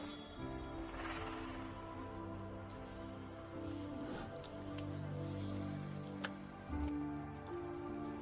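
Rain falling outdoors gives a steady, soft hiss beneath sustained dramatic background music throughout, with a faint clack near the end.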